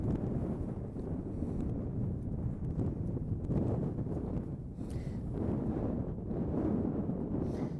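Wind blows outdoors around a horse, rumbling steadily across the microphone in continuous low gusts with no voices.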